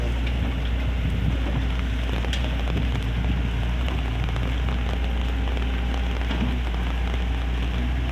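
Steady, dense rain pours down outdoors at a land-clearing site where an excavator digs, a constant close hiss and patter with no pauses and no voices.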